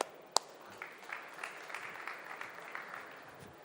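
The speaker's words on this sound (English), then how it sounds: "I want a huge round of applause from Pierre-Olivier from Ubigreen" Scattered applause from an audience at a startup demo day, a light, diffuse patter of clapping with a single sharp clap near the start, fairly quiet and steady throughout.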